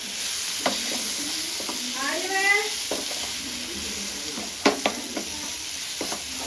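Masala sautés in a frying pan with a steady crackling sizzle, punctuated by a spoon or spatula stirring and scraping the pan; a voice is briefly heard over the frying.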